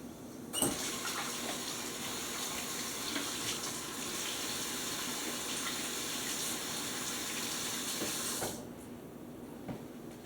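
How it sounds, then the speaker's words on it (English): Tap water runs steadily into a kitchen sink for about eight seconds while hands are washed during home cooking of meatballs and spaghetti, then stops abruptly, leaving a quiet room. "go and wash my hands real quick"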